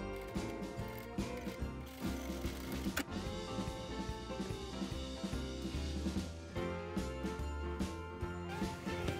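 A sewing machine runs fast and continuously as it stitches around a fabric piece for a cosmetic case, giving a rapid, rhythmic mechanical whir close up and almost unbroken, with music faint underneath.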